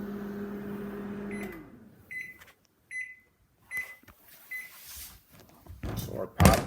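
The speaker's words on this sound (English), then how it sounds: "Still popping. We'll let it run out." Popcorn in a running microwave oven: a low steady hum stops, then scattered sharp pops and thuds follow at irregular intervals, loud and close, with silent gaps between them.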